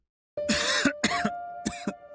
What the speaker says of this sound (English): he devolves into a fit of shoulder-rattling coughs